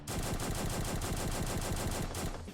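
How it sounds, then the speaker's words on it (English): Gunfire from the N1A single shot rifle in the game One Armed Robber, a rapid run of loud, close, evenly spaced shots that fills the whole moment before cutting off abruptly. "Back at the testing ground again, and we have our standard N1A single shot rifle."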